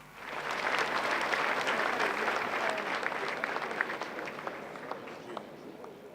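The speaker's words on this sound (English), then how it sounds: "Can we give them another round of applause?" A large audience at an education award ceremony in Lagos State applauds, with dense, sustained clapping that swells in quickly, holds steady and slowly tapers, with crowd murmur underneath.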